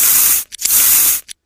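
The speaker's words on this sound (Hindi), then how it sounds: "तो देखिए स्प्रे से हम लोग दवाई डाल देते हैं।" A spray bottle of liquid medicine fires two strong, loud hissing bursts up close, each about half a second long, separated by short clicks of the trigger and followed by silence.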